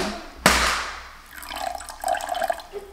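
Water poured into a pot of sauce for koshary, a sudden splash followed by sizzling and bubbling that grows louder as the liquid hits the hot pan.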